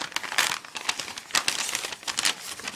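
Tissue paper from a gift wrapping crinkles and rustles up close in repeated bursts as it is handled and pulled open, with no talking.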